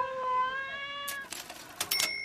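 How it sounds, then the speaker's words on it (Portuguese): Cat meowing sound effect, a clear drawn-out meow heard alone, followed by scratchy rustling noises and a second short tonal cry. "É esse o gato?"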